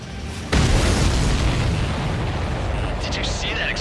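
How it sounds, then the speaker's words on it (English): A loud explosion in the jet combat game Ace Combat 7 booms suddenly and then rumbles on as a long roaring blast, with a brief electronic tone near the end. "Did you see that explosion?"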